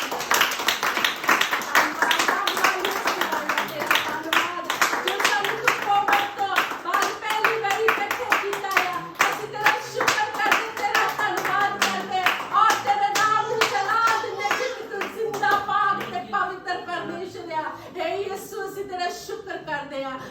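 A congregation at a church birthday celebration claps in steady rhythmic praise, dense and continuous close by, while voices sing or speak over the clapping throughout.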